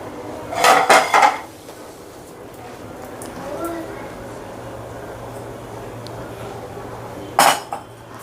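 A lid is set onto a pot of chicken cooking with mixed vegetables, giving a couple of close metallic clanks near the start and another clink later, over a steady background hum and sizzle.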